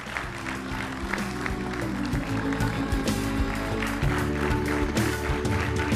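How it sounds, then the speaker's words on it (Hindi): Loud audience applause at an event honouring Navy officer Lt Manisha Thakshak and her mother, a steady wash of clapping over sustained music with a voice briefly heard. "एक बार बहुत जोरदार तालियां मनीषा की मम्मी के लिए"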